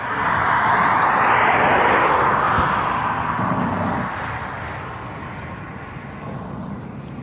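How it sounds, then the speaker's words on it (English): An Air France Embraer airliner arrives at Barcelona's runway 24R, its jet roar loud and broad at first, then gradually fading and thinning as it passes away into the distance. "we've had Air France arriving on the Embraer"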